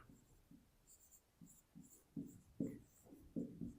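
A pen writes out a math solution on paper in quiet, short scratchy strokes that come in irregular bursts and grow slightly firmer toward the end, with no talking.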